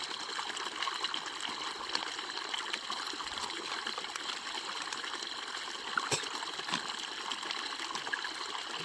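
Water pours from a tin in a steady, continuous stream for several seconds, splashing and trickling at an even level with no voices, measured out for mixing herbicide spray.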